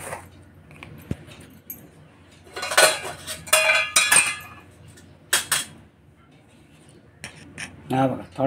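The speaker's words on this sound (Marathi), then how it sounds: "हा पॅन तापासाठी ठेवला मी." A metal pan is set on a stove to heat for banana aappe, knocking and clattering in a few close bursts of clinks and clanks among quieter gaps, with faint kitchen background.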